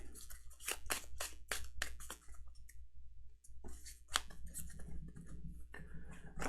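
A challenge deck of cards for the Earthborne Rangers board game being shuffled, quick bursts of riffling and clicking cards repeated several times with brief pauses, close and fairly quiet.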